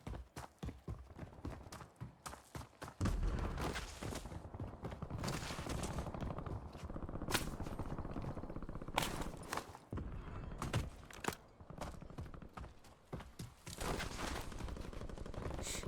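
A Call of Duty Warzone gunfight plays out with sharp shots and rattling automatic bursts, some near and some farther off, scattered irregularly over a steady background bed with footsteps mixed in.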